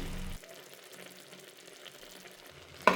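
Vegetable pulao being stirred in a pot with coriander leaves and ghee added, soft low scraping and faint simmering texture ending in a sharp clatter of the spoon against the pot.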